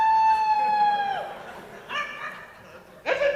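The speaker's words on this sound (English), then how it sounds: "That's a dog!" A dog in Antarctica gives a couple of short yips and a bark, close and fairly loud, following a long steady tone, with people talking around it.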